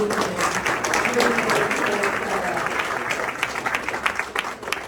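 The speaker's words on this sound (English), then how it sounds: "a huge round of applause, I think, needs to go to Aneel for hosting us" Applause for the host at a property group evening reception in a local venue, a steady wash of many hands clapping with murmuring voices mixed in throughout.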